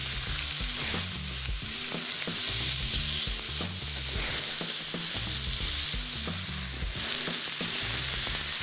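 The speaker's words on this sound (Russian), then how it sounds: "Вот свинина у нас уже начала жариться." Pork sizzles and fries in a pan for ojakhuri, with a steady hiss of hot fat, a low hum in the background and no talking.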